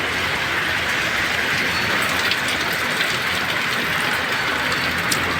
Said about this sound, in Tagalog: Ulan talaga mga idol.